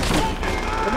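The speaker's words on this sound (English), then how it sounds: "Machine gun!" Rapid machine gun fire in a Call of Duty: World at War battle, a short loud burst of dense shots mixed with shouting voices.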